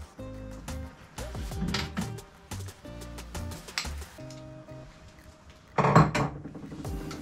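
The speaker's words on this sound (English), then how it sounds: "Put your bolts in." Metal bolts clinking and rattling as they are fitted while building a forged-internals engine for a Ford Focus ST, a string of sharp, close metallic taps and jingles with brief pauses between them.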